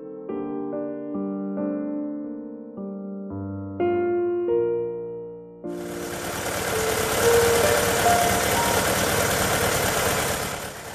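A 1974 Citroen CX prototype's water-cooled four-cylinder GS engine runs steadily with a broad, even mechanical hum. It follows a few seconds of stepped musical tones and continues loud to the end.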